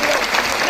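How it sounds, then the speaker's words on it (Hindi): A short, loud burst of dense crowd applause at a political meeting about help for auto-rickshaw drivers. Many hands clap together at once, filling the whole moment. "तो मैं चाहूंगा वीरेंद्र सचदेवा जी के लिए एक बार जोरदार तालियां बजाएं।"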